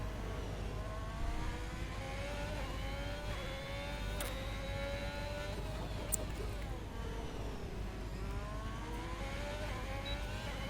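Ferrari race car in a sim racing game on the Azerbaijan GP street circuit, its engine droning steadily and continuously with rising and falling pitch through gear changes, loud and close throughout the onboard run.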